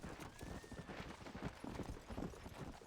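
Horses in the video game Red Dead Redemption: Undead Nightmare, a rapid clatter of hoofbeats clip-clopping close by for a few seconds, faint and busy, with no talk.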